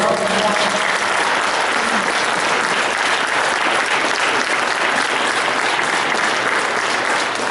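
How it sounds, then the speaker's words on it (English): A crowd at a Bill of Rights Day keynote claps steadily and loudly throughout, a dense, even wash of applause. "Let's give him a round of applause."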